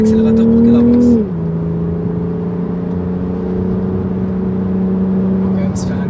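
A BMW M440i engine hums with a clear tonal drone whose pitch drops once, just after the first second, then settles into a steady, moderately loud note for the rest of the clip.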